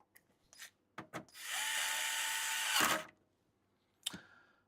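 Screws being removed from the back panel of an electronics unit with a power driver, one steady whirring burst of about a second and a half, framed by a few short clicks and knocks, close and fairly quiet.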